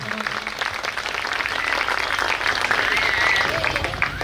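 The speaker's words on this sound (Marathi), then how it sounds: "जोरदार टाळ्या झाल्या पाहिजे वरती हात करून." Crowd applauding at a Vanchit Bahujan Aaghadi victory celebration in Aurangabad, a dense burst of clapping that swells and stays loud and close throughout, with a brief voice at the start.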